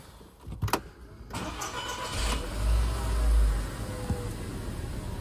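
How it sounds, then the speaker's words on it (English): A VW Touran 1.4 TSI with DSG gearbox cranks and fires up close by, a brief starter whir followed by the petrol engine catching and settling into a steady idle with a low rumble swelling and easing. "last but not least, is to get the car started."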